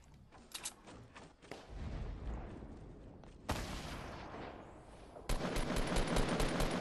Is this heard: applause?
no